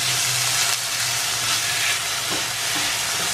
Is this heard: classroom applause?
no